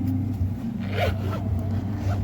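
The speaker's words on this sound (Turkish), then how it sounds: "Düğmelerin yerine denk getirecek şekilde fermuarı tekrardan çekiyorum" A zipper on a massager's fabric cover is drawn along, a short raspy scrape heard over a steady low hum.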